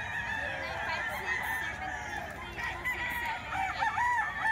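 Roosters brought for sale at a Philippine poultry market crow repeatedly over a dense background of clucking fowl and crowd noise, steady and fairly loud throughout.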